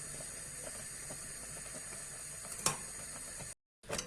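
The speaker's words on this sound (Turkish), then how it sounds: "Bakın böyle göz göz oldu kaynamaya devam ediyor." A milk pudding mixture bubbles and steams on the stove as it is stirred now and then, a faint steady hiss with a brief louder scrape near the end before the sound cuts out.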